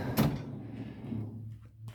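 A deep drawer on a metal tool cart sliding, with a sharp knock at the start followed by a rumbling glide that fades out, and a faint bump at the end.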